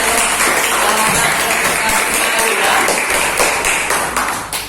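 Students applaud in a seventh-grade classroom during a lesson, a dense, steady burst of clapping that fills the room close by and fades slightly at the end, with voices mixed in.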